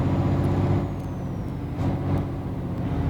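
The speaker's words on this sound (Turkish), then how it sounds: "Bu Renault Range'liği de böyle hafif kalkışta bir zorluyor ya arkadaşlar aracı." Renault Range truck in Euro Truck Simulator 2 pulling away from a stop, a low rumbling engine drone under strain with a faint rising whine, steady and close with no voices.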